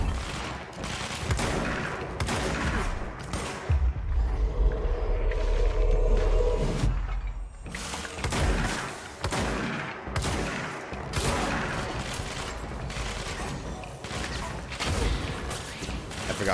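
Gunfire in the action game Control, with repeated sharp shots and a heavy rumbling stretch in a loud, busy firefight that continues throughout.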